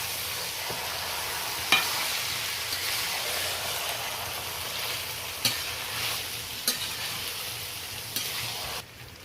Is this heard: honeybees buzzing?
no